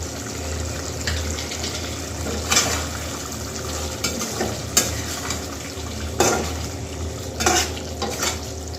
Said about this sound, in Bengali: মশলাটা ভালো করে মিশিয়ে দিয়ে